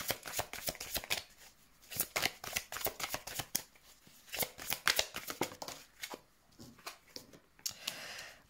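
Tarot cards riffle and flick in bursts of crisp, papery shuffling, with a few short snaps as cards are drawn and laid down, close and moderately loud, no talking.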